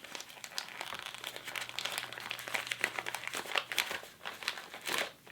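Plastic packaging of a Topicrem product crinkles and tears close up, with irregular bursts of crackling and rustling as it is worked open.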